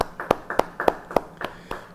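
A church congregation claps together in a steady rhythm, about three sharp claps per second, crisp and fairly close, with no voices over it.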